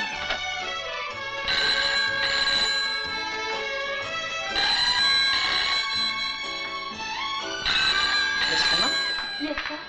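A phone ringtone plays a repeating melodic tune, steady and fairly loud throughout, with faint voices in the background.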